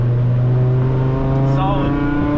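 A Mk5 Jetta on a road course accelerates hard out of a turn, its engine droning loud and close with a steady harmonic pitch rising slightly.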